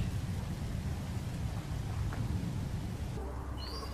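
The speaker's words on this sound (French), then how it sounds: "La pluie électrique." Constant heavy rain hiss with low rumbling, like a downpour with distant thunder, continuing without pause: electric rain in the video game No Man's Sky.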